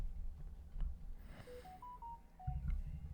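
A cartoonish phone sound effect: a short run of rising and falling electronic tones, like a ringtone or dialing melody, over a low rumbling background in a brief animated scene.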